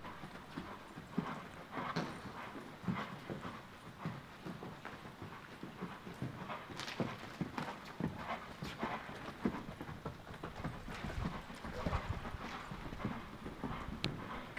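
A horse cantering, with steady rhythmic hoofbeats repeating throughout at moderate distance, fairly faint with no talk over them.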